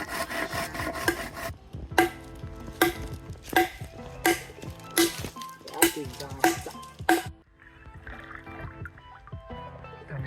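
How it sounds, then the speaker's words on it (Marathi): Bamboo is chopped into pieces in a string of sharp, close blade strikes at irregular intervals, about eight hits, then a quieter stretch of rustling and handling. "आपल्या बांबूचे आपण आता तुकडे करून घेऊयात"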